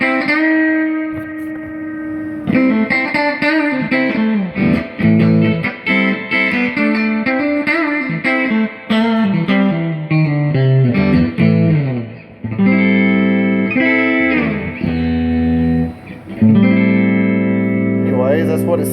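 A Squier Classic Vibe 50's electric guitar plays clean straight into an amp with reverb, ringing out single notes and chords in a melodic phrase, loud and sustained with brief pauses between passages.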